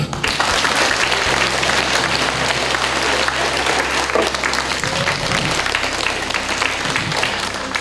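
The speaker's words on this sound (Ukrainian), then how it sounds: "Прошу оплесків." An audience at a university Vyshyvanka Day charity event in Rivne bursts into sustained, dense applause, a continuous wash of many clapping hands lasting several seconds.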